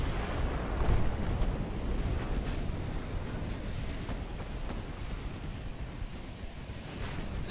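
Naval gunfire and shell hits in the warship battle game Ultimate Admiral: Dreadnoughts, with 12-inch and 5-inch guns: a continuous low, rumbling wash of booms and impacts that stays heavy throughout, with a few sharper thuds rising above it.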